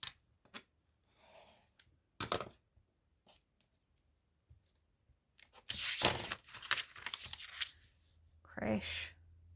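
Scissors roughly cut through fabric in a few short snipping bursts separated by quiet gaps, followed by louder rustling and handling noise toward the end.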